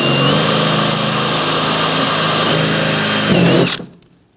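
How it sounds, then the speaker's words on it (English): A drill bores out rivets on a 2000-2007 Ford Taurus front power window regulator, a steady loud whining grind held close for over three seconds before cutting off abruptly into quiet. "we are going to drill out our 4 rivets now"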